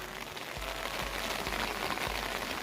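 Rain falls steadily, a dense close hiss of drops on surfaces with a few low thuds spaced through it, and no talk.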